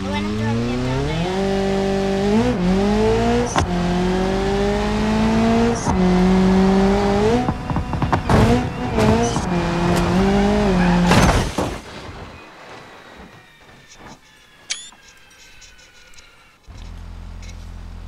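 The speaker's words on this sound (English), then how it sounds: "Oh, and I'm driving it down there." A car in a BeamNG.Drive crash test revs and accelerates through gear changes with a loud engine whine and sharp impact bangs, then the engine drops away to quieter clatter and a faint hum.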